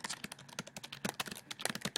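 Rapid, uneven keystrokes on a computer keyboard, close and fairly quiet, with short bursts and pauses between clicks as questions are typed in.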